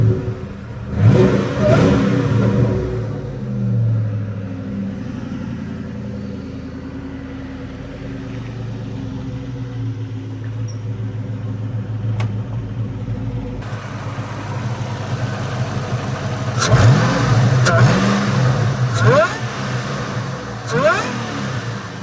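A 1995 Ford Mustang Cobra hardtop with under 100,000 miles, its engine revving and settling into a rumbling idle nearby, with throttle blips rising and falling throughout and a faint voice in the background.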